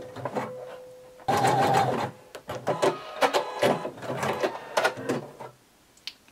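A sewing machine runs a wide zigzag stitch through stretchy swimsuit fabric and elastic, in several close, loud bursts of rapid whirring with short pauses between them.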